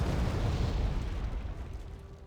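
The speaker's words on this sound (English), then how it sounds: "Even got mortars firing on the Abrams" Mortar fire explosions in the war strategy video game Wargame Red Dragon, heard as one continuous deep, rumbling boom that fills the short clip and fades slightly toward the end.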